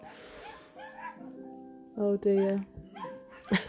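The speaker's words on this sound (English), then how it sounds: "And that's my sister's dog." A small dog barks and whimpers indoors, with a few sharp yips and whines in short bursts, close by, mixed in with someone talking over it.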